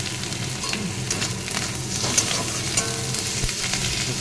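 Tomatoes stirred in a hot frying pan for a fish curry, giving a loud, dense sizzle with a busy run of spatula scrapes and a few louder clatters, close up and with no talking.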